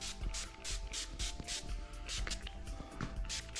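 Several short hissing bursts of application fluid sprayed from a spray bottle onto a 2020 KTM motorcycle's headlight surround, repeating in quick succession over a steady low background hum.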